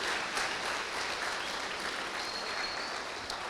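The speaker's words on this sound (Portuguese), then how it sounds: "Você pode aplaudir Ele, dizer aleluia," Congregation clapping during a church worship service, a steady wash of many hands applauding at moderate volume, continuous and even throughout with no speech over it.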